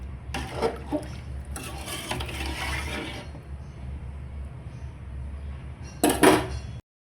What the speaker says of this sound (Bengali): লাড়ার উপরে রাখতে হবে, নাহলে লাইগা যায়